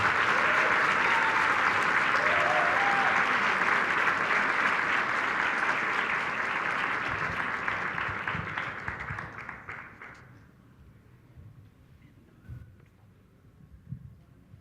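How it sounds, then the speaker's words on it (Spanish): Loud, sustained applause from an audience at a human rights awards event, steady clapping that fades out around ten seconds, leaving near silence with a few faint taps. "Les pido un fuerte aplauso."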